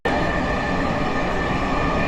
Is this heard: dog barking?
no